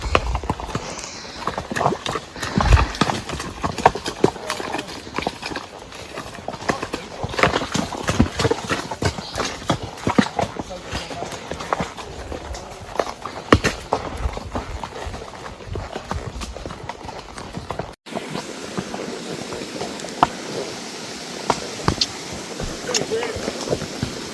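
Horse hooves clip-clop steadily on a trail ride in the Smoky Mountains, an uneven walking rhythm up close, with wind noise and occasional talking mixed in.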